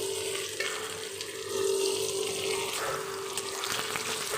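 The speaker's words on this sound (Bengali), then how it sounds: "মশলাগুলো ভাজাও হয়ে যাবে এবং কষাও হয়ে যাবে" Spices fry in a pan for a Bengali pointed gourd (potol) dish, giving a steady moderate sizzle with soft scraping and stirring throughout, no voices.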